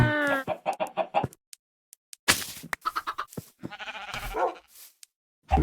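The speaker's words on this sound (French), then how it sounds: "Il y a une poule là." Blocky chickens in the Minecraft farming game cluck in short bursts, a run of rapid clucks followed by scattered single calls and a longer busy stretch, close and clear with no talking.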